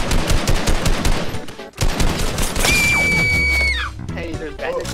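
Rapid gunfire bursts crackle in a Fortnite match, loud close shots in quick succession, followed by a sustained electronic tone and sliding game effects while players talk over the action.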